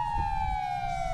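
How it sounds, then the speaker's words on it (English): A police car siren in the FiveM (GTA V) video game holds a steady, slowly falling electronic wail over a low engine rumble, continuous and fairly loud for the whole moment. "can you get a siren check on us?"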